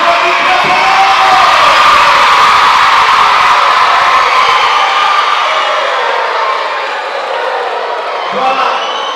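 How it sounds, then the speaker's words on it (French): A church congregation at a thanksgiving service roars with loud cheering, whoops and shouts over clapping, a dense sustained crowd noise that eases slightly near the end. "On peut applaudir très fort."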